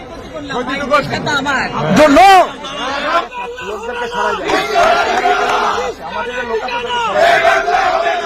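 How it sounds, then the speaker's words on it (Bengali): An agitated crowd of protesters shouts and chants slogans at a woman, loud overlapping voices with rising surges of yelling and continuous chatter throughout. "উত্তেজিত জনতা তাকে ভারতের দালাল বলে অভিহিত করে স্লোগান দিতে থাকে"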